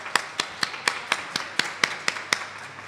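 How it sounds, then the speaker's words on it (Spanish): Slow, evenly spaced claps at a lecture on dinosaurs, about ten distinct loud strikes in a steady rhythm, sounding like one or a few people rather than a full audience. "Pequeño aplauso."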